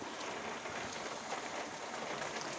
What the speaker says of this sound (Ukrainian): Поливає дощик.